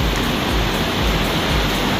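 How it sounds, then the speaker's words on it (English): Kanarra Falls waterfall roaring on a hike, a constant broadband rush of falling water that stays steady and moderately near, with no voices over it. "Can you hear the waterfalls?"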